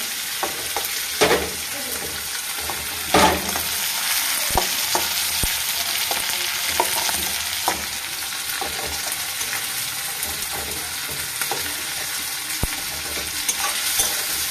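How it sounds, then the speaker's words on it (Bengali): A spatula chops shrimp with green chilies in a sizzling pan for ohar bhorta, making repeated sharp taps and scrapes against the metal over a constant frying hiss, close and without talk. "চিংড়ি মাছটাকে একটু কুচিয়ে কুচিয়ে নেবো খুন্তির সাহায্যে"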